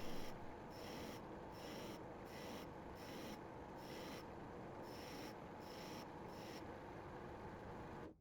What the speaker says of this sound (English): So while sanding the piece like this on the lathe is quick